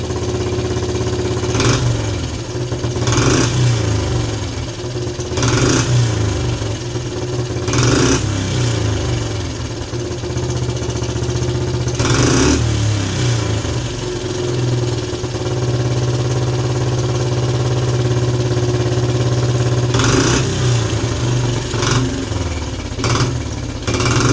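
Suzuki LT125 ATV engine running without an air filter, a loud continuous idle with uneven putter and several brief rises in revs, close by.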